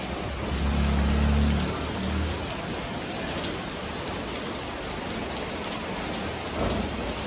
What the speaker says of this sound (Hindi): अब इतनी तेज़ बारिश हो रही है